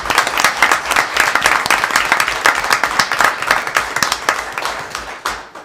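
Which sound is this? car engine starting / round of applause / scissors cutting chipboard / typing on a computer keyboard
round of applause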